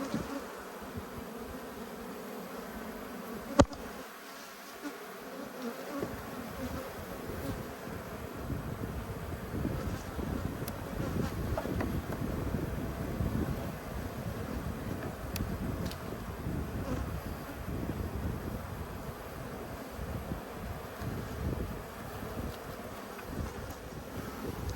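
Dense, steady buzzing of many honeybees at an open hive, close to the microphone and continuous throughout, with a sharp knock early on and light wind noise.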